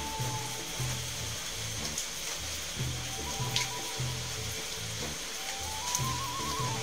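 Potato and vegetable stems frying with salt and turmeric, a soft, steady hiss of oil heard quietly throughout with faint stirring, no voices.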